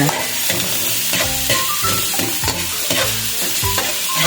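Sautéed pechay in oyster sauce with eggs is stirred in a hot pan, giving a loud, close sizzle with rhythmic scraping and clattering of the spatula throughout.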